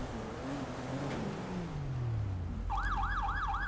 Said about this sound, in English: Sirens? Is that really necessary?